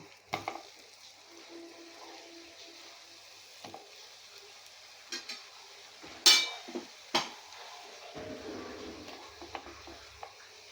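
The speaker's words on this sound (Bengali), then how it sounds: "পাইনঅ্যাপেলগুলো এক এক করে দিয়ে দেবো কড়াইতে রোস্ট হওয়ার জন্য।" Pineapple pieces roasting in melted butter and jaggery in a wok: faint sizzling with scattered clinks and scrapes of a spatula against the pan, a few louder knocks, heard alone.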